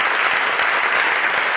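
Audience at a formal ceremony applauding, a dense, even wash of clapping from many hands, loud and continuous throughout with no voices rising above it.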